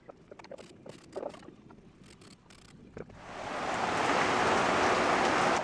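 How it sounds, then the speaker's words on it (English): Light drizzle falls outdoors under blue skies, starting sparse with a few scattered taps and then swelling into a steady, close, broadband patter for the last few seconds. "It's drizzling or something out here, but it's got blue skies."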